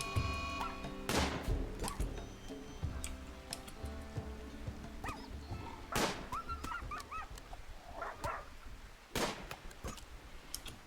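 Dog whimpering in the colony game RimWorld, a few short high whines and yelps spread across a busy mix of ticking, clattering and impact noises, fairly loud throughout.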